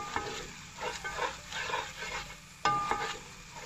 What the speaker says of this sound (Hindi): देख सकते हैं कि अच्छी तरह से इसको मिक्स कर रहे हैं।